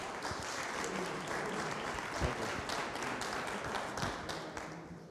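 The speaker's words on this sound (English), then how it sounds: "And now please welcome, with thunderous applause, Officer Eubanks with the Topeka Police Department" Community meeting audience clapping to welcome a Topeka Police Department officer, a steady wash of applause from a modest crowd throughout.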